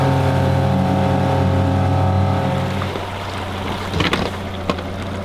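Steady droning boat motor on a lake, loud and close at first, then easing back, leaving the churn of water and a few knocks and splashes.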